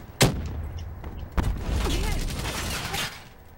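Video game gunfire in a free-for-all match, two sharp nearby shots followed by a rolling burst of distant fire and booms, with a voice faintly in the mix.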